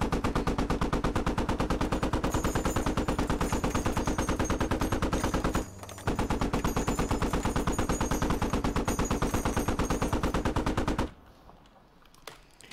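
Sustained rapid automatic gunfire in a video game firefight, loud continuous bursts for several seconds, a brief pause, then more firing before cutting off abruptly.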